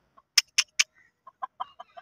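Chickens cluck close by in a few short sharp bursts, followed by a quieter run of soft rhythmic clucks, with no talking and silence between calls.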